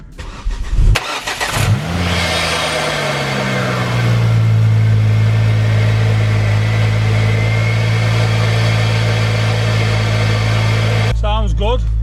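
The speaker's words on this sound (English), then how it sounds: "So I'm going to fire the car up just to make sure it's running alright." A modified Ford Focus ST with Mountune performance upgrades cranks and fires, briefly revs, then settles into a steady, close, loud idle that holds to the end, where the engine note shifts with a short burst of higher tones.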